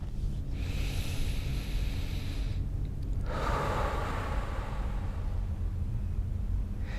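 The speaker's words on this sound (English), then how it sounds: "let's start with 3 deep natural breaths, just really deep into the belly. Just breathe deeply." Slow, deep breaths in and out during a qigong meditation sound as long, soft airy whooshes, one inhale and one exhale over several seconds, heard close and alone against a steady background hiss.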